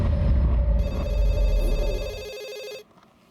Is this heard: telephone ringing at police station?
yes